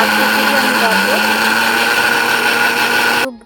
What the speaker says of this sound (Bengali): জল দিয়ে আমি চালটা বেটে নিব